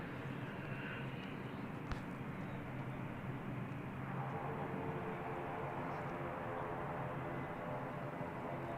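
Jetstar airliner pushing back at Christchurch Airport, a steady broadband engine roar heard from a distance that holds throughout with no pause.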